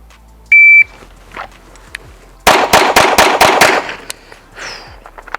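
Pistol shots ring out at an outdoor range during a fast drill at 7 yards. A shot timer beeps first, then a quick string of about six loud, evenly spaced shots follows, with a few fainter pops afterward.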